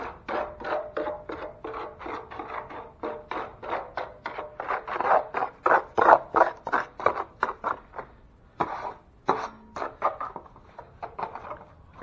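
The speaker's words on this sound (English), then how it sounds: "Almost like he's standing up the knife and the thin mud's just skipping off the knife." A knife spreads thin stucco mud over an exterior wall patch where a dog door was removed, making a close series of rhythmic rasping, scraping strokes with brief pauses between them.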